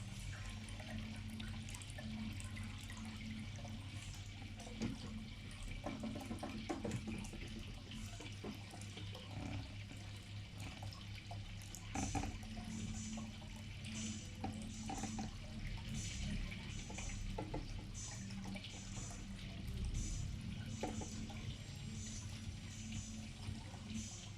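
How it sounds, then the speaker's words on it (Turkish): Water running continuously during a water change while an aquarium is cleaned, a steady pouring and gurgling flow with occasional splashes, close and even in level throughout, no talk. "Su değişimi."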